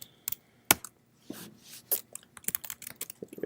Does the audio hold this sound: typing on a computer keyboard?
yes